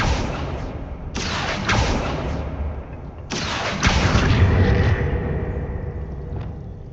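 A Confringo spell in Hogwarts Legacy bursts with loud, sharp blasts: a few booming hits with rumbling tails, close and forceful, over a low ambient bed.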